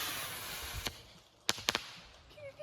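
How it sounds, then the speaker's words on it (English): Backyard fireworks set off on a July 4th homestead: a few sharp, close bangs and crackling pops at irregular intervals over a steady hiss of background noise. "Laura got to fire her first firework ever"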